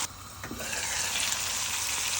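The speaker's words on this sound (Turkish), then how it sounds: "Domateslerimizin iyice kızardıktan sonra bu şekilde diğer yüzümüze çeviriyoruz." Round tomato slices sizzle steadily in hot oil in a pan for breakfast, a dense, even crackle that starts after a brief soft clink and stays loud throughout with no talking.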